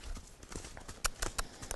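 A mare's hooves clip-clop as she steps forward, a few soft, close thuds that turn sharper and quicker near the end, over low background noise.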